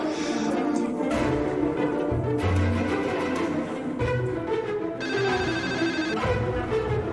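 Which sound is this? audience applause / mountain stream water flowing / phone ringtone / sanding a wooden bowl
phone ringtone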